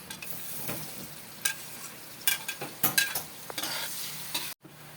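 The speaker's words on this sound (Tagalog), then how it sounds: "Ayan po, nag-brown na po ang ating bawang." Garlic browns in a pan with a soft, steady sizzle, broken by several scraping stirs and clinks of a utensil against the pan, fairly quiet and close.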